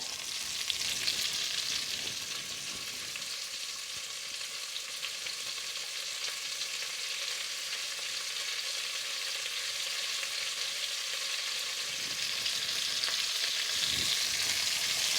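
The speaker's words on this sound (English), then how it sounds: "I'm going to add in the onions, sliced up onions. We're going to saute that for just a little bit." Sliced onions sautéing in hot oil in a pan for a French chicken stew: a steady, close, continuous sizzle and crackle with no talk.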